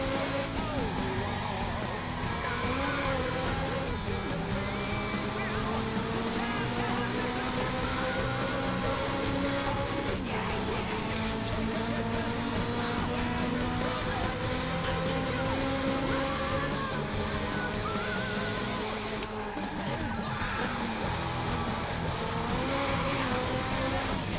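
Race cars in the Sega Dreamcast game F355 Challenge: a steady, loud engine whine that rises and falls with gear changes, with other cars roaring close by throughout.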